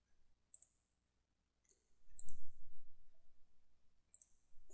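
Computer mouse clicks during office bookkeeping software use, several light, close taps spaced irregularly, with a soft low rumble of handling in between and no speech.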